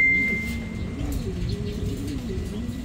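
Pigeons in an aviary give soft, low, rolling coos that repeat throughout, close and steady, with one faint high tone near the start.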